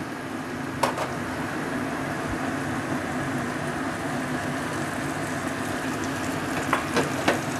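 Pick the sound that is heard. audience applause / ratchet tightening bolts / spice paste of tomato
spice paste of tomato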